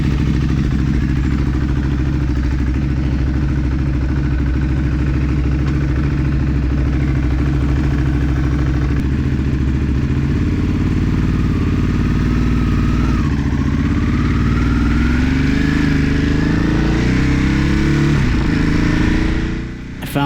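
A 2014 Ducati Hypermotard 821 engine runs steadily and close with a throbbing, clattering mid-range tone, rising in pitch later as revs climb during a ride, with brief faint voices.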